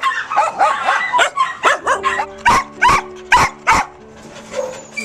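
Many dogs bark and yip in a noisy burst while rescue animals are loaded for transport, repeated loud barks in quick succession, some whimpering between, with no talk.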